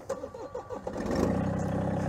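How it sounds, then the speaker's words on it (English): A Massey Ferguson GC1725M compact tractor engine starting: a few rhythmic cranking chugs, then the engine catches and settles into a steady, fairly loud running drone close by. "So I'm gonna fire it up, and I'm gonna get up to the rated PTO speed."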